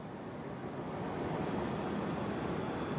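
Nanwei QM-3C28 portable battery-powered fan running steadily, a close, even rushing whoosh of moving air that holds at a constant level throughout with no talking.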